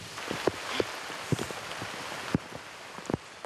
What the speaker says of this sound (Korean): 빗방울이 하나둘 떨어지더니 점점 더 비바람이 거세지기 시작하는데요